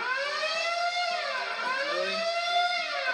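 Planet Fitness gym lunk alarm going off, a continuous wavering electronic siren that sweeps up and down steadily and loudly, with no voices.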